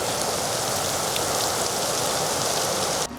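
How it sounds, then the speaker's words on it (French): Heavy rain close to melted hail pours down in a steady, dense roar that stays loud and unbroken, then drops off abruptly at the very end. "il pleut limite de la grêle fondue quoi"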